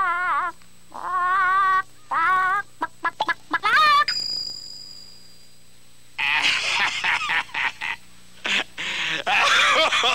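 A hen clucks in a 1991 animated Jack and the Beanstalk, a string of loud, close, pitched squawks in bursts, followed after a pause by more rapid clucking.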